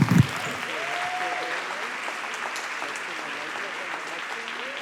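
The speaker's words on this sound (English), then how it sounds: "Give a round of applause to this panel and welcome Natalie Baptiste." An event audience applauds to welcome a panel, a steady, moderately distant clapping that holds for several seconds after a brief thump, with voices mixed in faintly.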